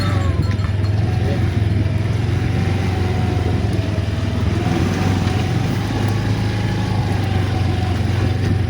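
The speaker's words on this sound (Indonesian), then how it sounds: "Ini naik motor." A motorcycle rides along a road past farm shrimp ponds, its steady engine drone continuous and fairly loud throughout, with no talking.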